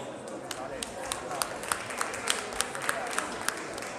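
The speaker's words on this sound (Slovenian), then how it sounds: "Še en aplavz, no, dajmo." Applause at a rock 'n' roll dance competition, a fairly faint spread of clapping from the crowd with some sharper individual claps popping out, heard from a distance in a large hall.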